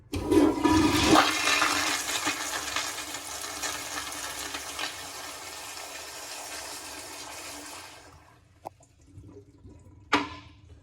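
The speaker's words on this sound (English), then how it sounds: "This is what a proper flush is supposed to look like." Campground restroom toilet flushing at full pressure, a loud close rush of water that tapers into a steady draining hiss and refill, with a couple of sharp clunks near the end.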